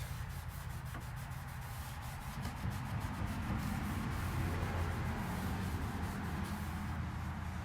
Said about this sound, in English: And then I'm going to take some steel wool.